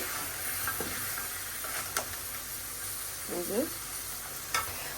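Chicken sautés in an oily pan, a steady close sizzle with scattered spatula knocks and scrapes across the pan, plus a faint background hum.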